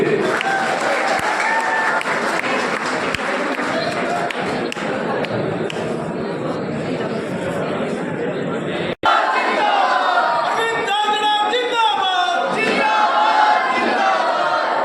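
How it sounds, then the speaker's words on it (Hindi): A large crowd at an election rally claps and cheers continuously, with shouts mixed in; after a brief break, rhythmic chanting and clapping rise from the crowd. "एक बार जोरदार तालियां खेमाराम जी के लिए भी।"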